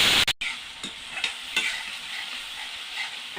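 Cumin powder goes into a hot pan for cauliflower stalk kofta curry, sizzling steadily and fairly close with light scraping stir strokes, after a sharp clatter at the start.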